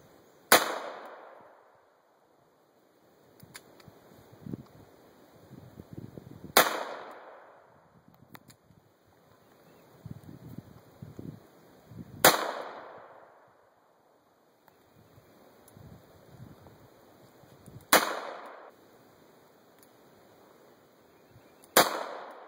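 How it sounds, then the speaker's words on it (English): Ruger SP-101 revolver with a 4-inch barrel fired single and double action, five loud sharp shots spaced several seconds apart, each with a ringing decay and faint handling noise between. "This is the Ruger SP-101 with a 4-inch barrel, and we're going to try it both single action and double action."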